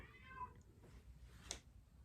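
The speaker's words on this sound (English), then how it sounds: "Can you hear that? It's one of my cats." One of several house cats gives a single faint meow in a quiet indoor room, brief and distant, followed by near silence.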